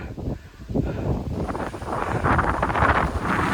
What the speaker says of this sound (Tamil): காற்று அதிகமாட்டிக்குது